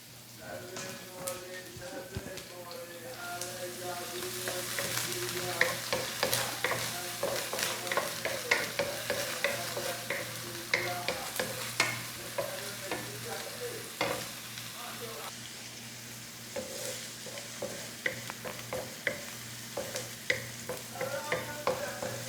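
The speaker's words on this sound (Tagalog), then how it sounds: "igigisa natin yung bawang at sibuyas" Garlic and onion sizzle and fry in a pan, with a steady crackling hiss and repeated scraping and stirring strokes throughout, fairly close and continuous.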